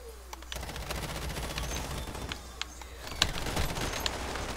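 Gunfire in the video game Call of Duty Warzone: rapid, scattered shots crackle over a steady background of game noise, some shots close and punchy, others more distant.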